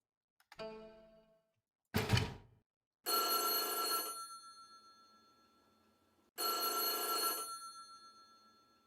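Old telephone bell ringing in the horror video game White Day: A Labyrinth Named School, heard as two long, bright metallic rings separated by silence, preceded by a couple of soft knocks and thumps.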